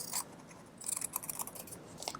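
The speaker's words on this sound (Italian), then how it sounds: "Prendo le mie forbici e taglio" Scissors trim off excess denim while hemming a pair of jeans, giving a series of close, crisp snips and crunching cuts in quick succession with no talk.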